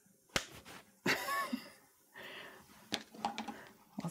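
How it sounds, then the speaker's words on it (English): Several sharp hand claps ring out close and fairly loud, one near the start and a cluster later, scattered irregularly among quiet room noise and some faint breathy sounds. "I'm gonna clap my hands"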